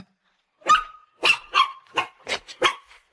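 A wet puppy barks indoors, six short high yapping barks in an irregular series, close and fairly clear with no talk over them.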